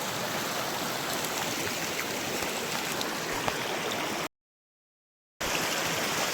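Flowing stream water in a natural spot, a steady broadband rush close by, with someone talking over it and a short silent gap.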